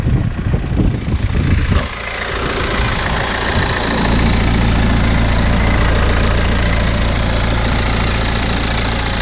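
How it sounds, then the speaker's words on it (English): A BMW 3 Series F30 316d's 2-litre diesel engine idles steadily up close, a loud, even rumble with a slight knocking texture and a brief shift in tone early on. "This is a 2-litre diesel engine."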